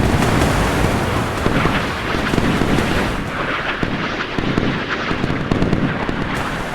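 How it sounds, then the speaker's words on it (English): Heavy naval gunfire in the Sea Power naval warfare game, with dense rapid bursts of cannon fire and explosions crackling continuously at high volume and no talking. "Oh, it's a lot of gunfire, a lot of gunfire."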